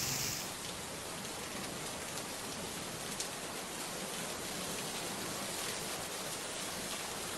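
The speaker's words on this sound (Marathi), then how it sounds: "साधारण 4:30-5 नंतर मुसळधार पावसाला सुरुवात झाली आणि अनेक सखल भागांमध्ये पाणीही साचलेलं आहे" Heavy monsoon rain pours down in Mumbai as a dense, even hiss of falling water, continuous and moderately quiet, with no voices.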